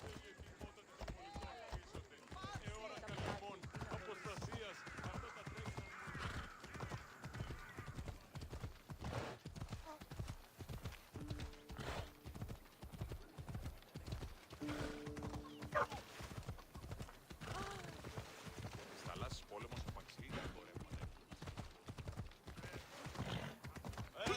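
Horse riding in Assassin's Creed Odyssey: a steady, rhythmic clip-clop of galloping hooves close by throughout, with an occasional whinny and snatches of character dialogue over it.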